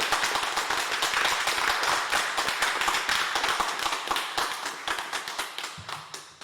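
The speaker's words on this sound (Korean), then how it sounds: "우리 영광의 박수 한번 보내겠습니다" A church congregation celebrating its 44th anniversary gives a round of applause, dense clapping that forms into a rhythmic, fairly even beat and gradually thins out toward the end.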